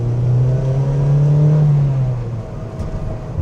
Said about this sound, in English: Rev matching is nice and easy.